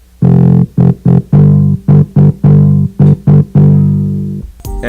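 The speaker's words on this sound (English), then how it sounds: "we have a different bass line for this last chorus which sounds like this" Distorted synth-like bass line for the final chorus of a song, loud and alone in choppy rhythmic bursts of sustained notes, ending in a long held note.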